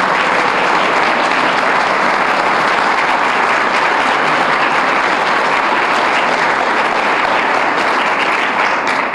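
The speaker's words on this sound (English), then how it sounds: "I'd like to give a big round of applause" A large crowd applauds loudly and steadily, the clapping sustained and dense throughout without pause.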